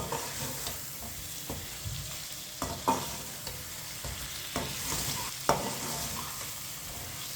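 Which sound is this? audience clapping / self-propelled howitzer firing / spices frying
spices frying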